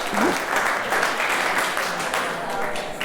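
Steady, dense applause from an audience at a talk on the history behind Hamilton, continuing evenly and loudly throughout with no breaks.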